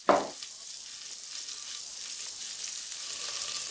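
Chopped onions and garlic hit hot fat in a pot with a brief loud burst, then settle into an even, close hiss of frying that holds steady to the end.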